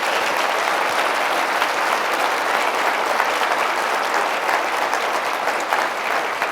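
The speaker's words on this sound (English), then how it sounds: "Can we thank them with a thunderous round of applause?" Sustained, loud applause from a gala audience honoring elders, many hands clapping in a continuous even roar throughout.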